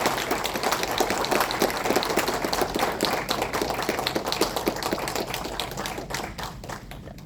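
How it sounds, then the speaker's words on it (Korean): A crowd at a political party chapter event applauds Ahn Cheol-soo as he receives flowers, with dense, steady clapping from many hands that thins and fades slightly toward the end. "큰 박수 부탁드립니다"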